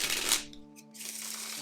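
Playing cards riffle-shuffled by a magician, a brief crisp burst of fluttering card edges, then a short pause and a second riffle, close and clear with no talking.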